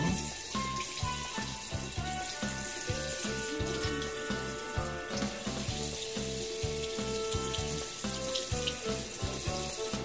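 Warm tap water pours steadily into a small plastic gashapon dome for Sailor Moon figures, a continuous splashing fill heard against a rhythmic pulsing background.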